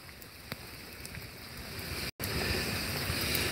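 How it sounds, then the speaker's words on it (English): Rain falling at night in downtown Charleston, a steady broadband patter and hiss that holds evenly throughout, with a brief dropout partway and no talking. "One thing about the rain, it cools it down."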